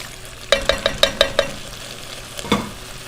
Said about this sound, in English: So we're going to get these potatoes all mixed in.